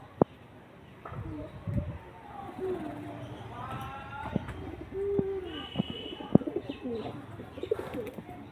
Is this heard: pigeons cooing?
yes